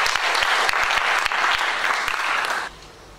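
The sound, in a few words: applause from congregation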